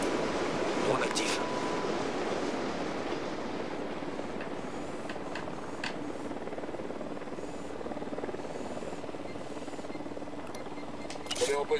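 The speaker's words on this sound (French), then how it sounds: "Un hélico de Unidad." Helicopter from an enemy Unidad faction in the video game Ghost Recon Wildlands, a steady droning rotor rumble that continues at a constant level throughout while a voice talks over it.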